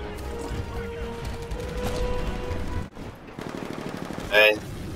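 Rapid sniper gunfire in the video game Titanfall, a string of loud sharp shots over dense game noise, with a short lull near the middle and a bright burst toward the end; a voice talks underneath.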